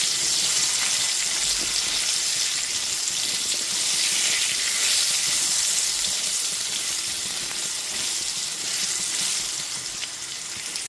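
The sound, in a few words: potatoes frying in oil with salt and turmeric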